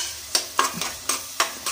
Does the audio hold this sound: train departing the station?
no